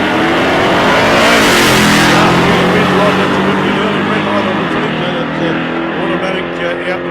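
Loud, close roar of drag race cars launching at South Coast Raceway, including a Chevy Camaro, engines revving hard then sustaining a rising howl that fades slightly toward the end.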